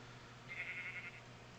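One sheep in a modded video game lets out a single short, faint bleat over a quiet, steady background hum.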